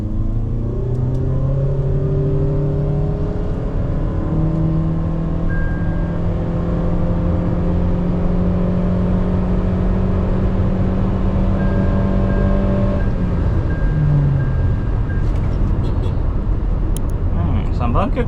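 A Toyota Innova Hycross ZX(O) hybrid pulling hard in a 0-120 run, a loud steady engine drone climbing in pitch then settling near a constant note, with road rumble throughout and a voice speaking over it.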